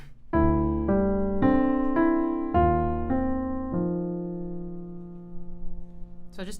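A piano plays a slow right-hand part: a series of sustained chords struck about half a second apart, each ringing clearly before the last one fades out.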